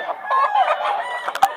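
Rooster crowing and chickens clucking at an outdoor pet market in Grotto, Bulacan, a busy overlapping run of close fowl calls with one sharp louder burst near the end.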